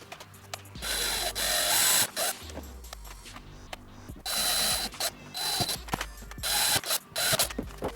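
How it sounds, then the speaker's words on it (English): A power drill bores holes in a DIY full-color yard sign in loud on-off bursts, motor whining and bit grinding with mechanical rattles between pauses, close up and without voices. "I need to drill some holes"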